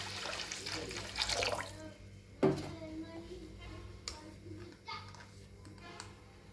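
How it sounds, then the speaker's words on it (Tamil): A tumbler of water pours into a pot of lentil dumpling curry (paruppu urundai kulambu) with a brief splashy rush lasting about two seconds, followed by quieter kitchen clinks and faint background noise. "நான் 1 டம்ளர் தண்ணி சேர்த்துக்கிறேங்க."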